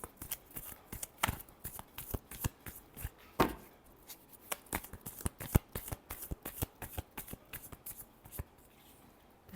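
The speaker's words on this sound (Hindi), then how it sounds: "Last shuffle." Tarot cards are shuffled by hand at close range, a quick run of crisp riffling flutters and soft slaps with short pauses, no voices.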